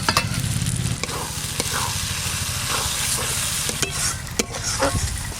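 Spring onions tossed into a frying masala for a pomfret fish curry, giving a steady loud sizzle with repeated scraping stir strokes throughout and no talking.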